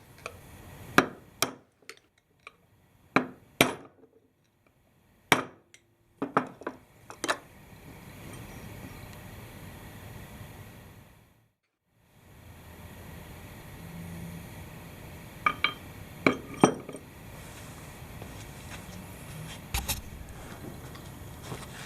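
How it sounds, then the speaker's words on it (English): Metal clinks and taps from removing the outer bearing race off a Dana 300 transfer case rear output shaft, several sharp close knocks scattered irregularly over a quiet workshop background with a brief silent gap. "Here I'm removing the outer bearing race."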